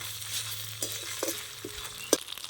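Ginger-garlic paste frying with onions in a pan gives a soft, steady sizzle, broken by a few sharp scrapes and knocks of a spoon stirring, close and fairly quiet with no talking.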